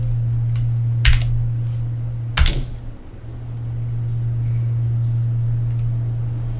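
A command is typed on a computer keyboard, heard as two short, separated clacks of keys over a steady low electrical hum, with no voices.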